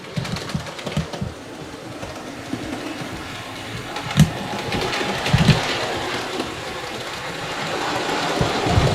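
An Accurascale Manor Class model locomotive, still being run in, circles a model railway layout with a steady low mechanical whirr, faint rail clicks and occasional louder knocks as it takes the track and curves.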